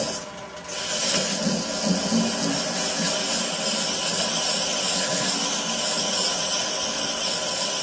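A wooden shot glass spinning on a Nova 1624-44 lathe with the sandpaper run in reverse, giving a steady, close, even rasp of abrasive on wood that holds at the same level throughout with no talking.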